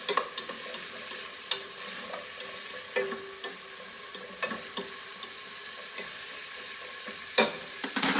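Steak sizzling in a frying pan while being stirred, a continuous soft hiss punctuated by a dozen sharp utensil clinks and scrapes at an uneven rhythm, fairly close and moderately quiet.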